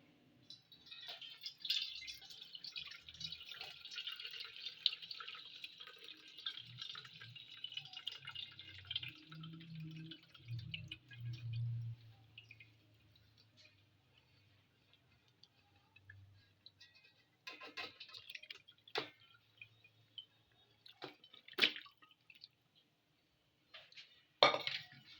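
Homemade chicken stock (yakhni) is strained, giving a soft trickle and drip of liquid early on, followed by sparse light clinks and taps of utensils against a vessel amid quiet stretches.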